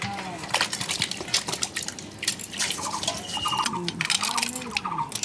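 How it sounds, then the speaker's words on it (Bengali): Tomatoes being dropped one by one into a bowl of water for washing, giving small wet plops and drips with light splashing, close and moderately quiet, and no voices. "টমেটোগুলো আর সব জলের মধ্যে দিয়ে দেবো এক এক করে।"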